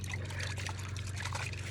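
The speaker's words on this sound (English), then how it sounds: "you can see all the muddy water coming off" Muddy water trickles and pours steadily off an upturned bike being washed, a continuous close splashing dribble with a low steady hum underneath.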